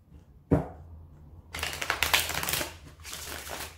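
Tarot cards being shuffled by hand, with one soft tap and then a run of fast, crisp riffling and flicking, close and fairly quiet, with no talk.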